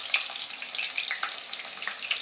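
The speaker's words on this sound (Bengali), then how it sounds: "ফোড়নটা ভালো করে ফুটে গেছে।" Bay leaf, cumin and whole garam masala crackle and sizzle in hot oil as a spice tempering, a steady close hiss dotted with small pops and no talking.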